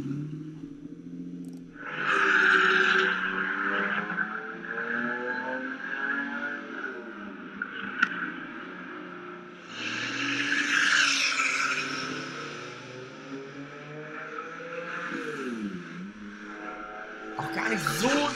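A sports car, a favorite older model tipped to become a classic in 2020, revving its engine in two strong surges that rise and fall, with a steady idle between and people talking over it.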